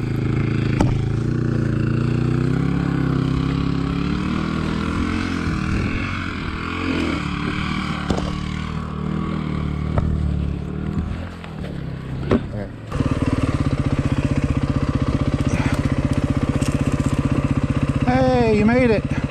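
Dirt bike engine idling and running steadily at a club outing, a continuous buzzy drone that grows louder and rougher partway through, with people talking over it.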